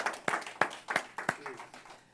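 A church congregation claps together in scattered, sharp bursts, several loose claps spread across a couple of seconds, moderately loud and fading toward the end.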